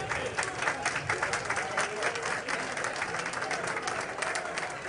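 A crowd at an outdoor public event in Haiti applauds continuously, a dense, even roar of many hands clapping with crowd noise, heard from a middle distance.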